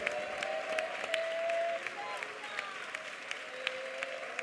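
A church congregation at a prayer gathering claps together in a brief, steady burst of applause, moderately loud, with a pastor's voice carrying over it.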